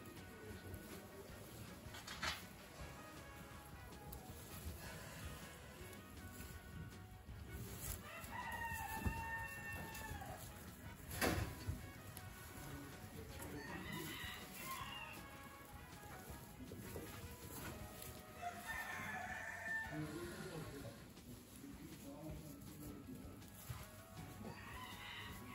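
Chickens at a small-animal poultry show cluck and crow repeatedly from cages, several roosters sounding at varying distances over a hum of indoor hall noise, fairly faint overall.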